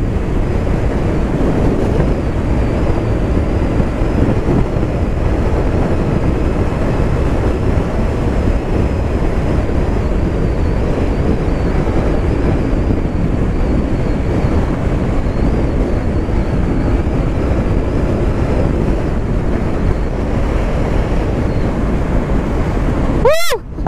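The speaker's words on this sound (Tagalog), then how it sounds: "Ang bilis ng motor na to, ako na lang nalulula eh." A Honda PCX 160 CBS scooter ridden fast on an open road: a steady, close roar of rushing wind over a low engine drone, unbroken for the whole stretch.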